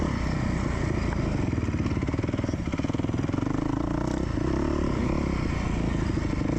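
A four-stroke dirt bike engine drones loud and close during an adult bike race, holding a steady high rev with rattling clatter from the bike.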